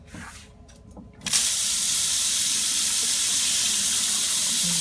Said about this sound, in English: I spray it down with Barbicide. You have the spray nozzle.